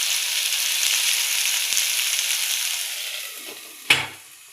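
A potato fry cooks in a covered pan on a low flame, giving a soft, even sizzle that fades slightly before a single clinking knock of the pot or lid near the end.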